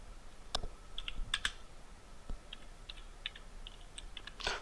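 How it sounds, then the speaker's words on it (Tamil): Quick bursts of keystrokes on a computer keyboard as a name is typed, close and fairly crisp, with short pauses between clusters of clicks and no speech. "ஃபஸ்ட் நான் வந்து என்னோடய நேம் நான் டைப் பண்ணிக்கிறேன்."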